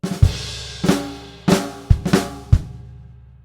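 Drum kit playing flams on the snare in a bar: a handful of sharp, ringing double-struck hits spaced unevenly, close and loud, each decaying into cymbal wash, with no voice.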